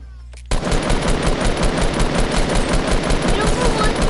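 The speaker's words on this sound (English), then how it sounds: "I hear gunshots" Rapid, loud gunfire bursts erupt after a brief quiet start and continue densely, with layered shots from Fortnite combat.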